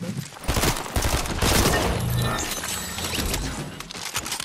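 Shotgun blasts in the Fortnite video game, several loud, sharp reports fired in quick succession with crashing impacts, densely packed over a few seconds.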